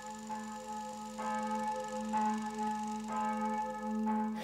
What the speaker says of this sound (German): Da läutet eine Glocke am Anfang,